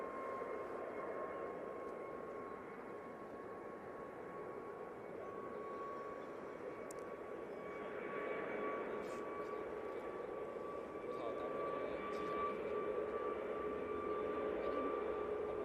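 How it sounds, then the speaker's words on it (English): A TUI Boeing 737 MAX 8 departs Manchester Airport for Budapest, its jet roar a steady, moderately distant drone that swells slightly toward the end, with steady tonal whine layered over broadband rumble. "Next out, we've got the TUI 737 MAX 8."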